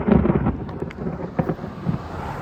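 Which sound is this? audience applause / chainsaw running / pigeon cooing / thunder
thunder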